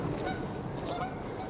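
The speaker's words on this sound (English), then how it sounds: "the geese have got like an ugly honk" Geese honk repeatedly over a noisy outdoor background, harsh calls overlapping at moderate distance.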